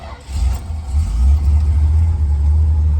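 A 1966 Chrysler 300 convertible engine catches and settles into a loud, deep, steady rumble, close by and with no voices.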